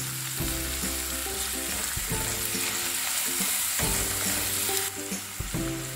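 Vegetables for hakka noodles stir-frying in a hot pan, a dense close sizzle broken by repeated scraping and tossing strokes at an uneven rhythm, with no voices.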